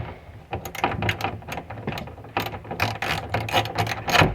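A socket ratchet clicks quickly and steadily, close up, as it loosens the four 8mm bolts holding a tail light on a Subaru BRZ or Scion FR-S. The pawl chatters in dense bursts.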